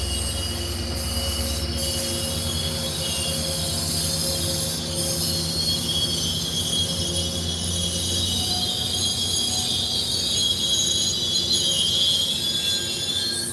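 The wheels of a Sounder commuter train squeal at a station, a continuous high metallic screech with shifting tones over a low rumble, loud and sustained throughout with no talk.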